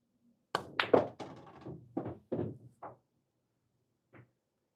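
Pool balls struck by a cue with maximum force during billiards power-shot training, a sharp crack followed by several clacks and knocks of balls hitting each other and cushions, then a lone faint tap near the end.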